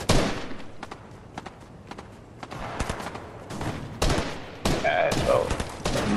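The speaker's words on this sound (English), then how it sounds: "Somebody shooting out there." Gunfire in the video game Fortnite: scattered single shots and short bursts, some distant and some closer, with louder clusters near the end, under intermittent talk.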